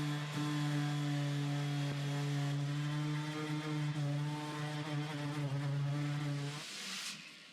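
Power sander with 80 grit paper working the hull of a DIY car-top boat, a steady buzzing motor drone with slight wavering as pressure changes, close and fairly loud, winding down near the end, no speech.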